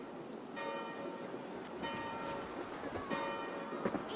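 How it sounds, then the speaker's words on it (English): Church bells toll in a medieval abbey setting in Assassin's Creed Valhalla, several ringing strikes with lingering tones spread across the scene over a soft ambient background, no speech. "Do you not hear the bells?"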